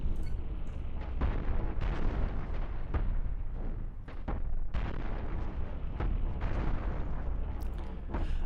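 Weapons fire strikes the player's own ship in the space game Cosmoteer, a dense run of loud booming blasts and bursts that continues almost without pause.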